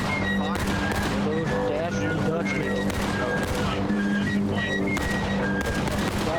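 Musket volleys and scattered independent rifle fire crackle densely across a Civil War-era battlefield in the multiplayer game War of Rights, with loud shouted voices over the shooting throughout.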